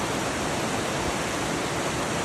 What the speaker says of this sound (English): the river's flowing down to Laurel Falls